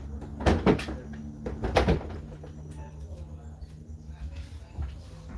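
Doors that will not stay shut are pushed closed, giving a couple of clattering bangs early on and another knock later, against background chatter.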